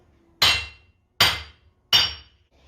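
Three sharp, evenly spaced hammer blows land on an anvil mounted on a stand, each a loud close strike whose ring dies away quickly, leaving short damped decays between hits.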